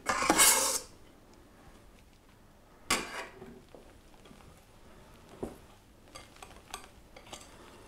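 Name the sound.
whisking chocolate mousse mixture in a bowl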